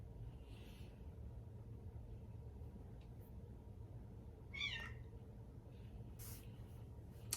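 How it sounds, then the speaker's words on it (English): A cat meows several times, faint and somewhat distant, over a low steady background rumble. "I'm sorry if you hear my cat in the background the entire time"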